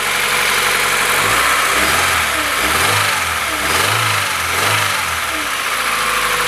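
A Honda Civic EJ9 engine idles steadily up close with a low, even hum, broken by a few short throttle blips that rise and fall in pitch.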